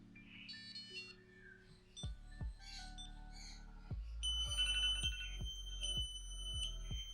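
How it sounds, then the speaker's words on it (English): A Knog Scout bike alarm's aggressive mode cycles through two or three shifting electronic tones in repeating bursts, building in loudness and urgency, with no talking. "a more aggressive tone will sound like this."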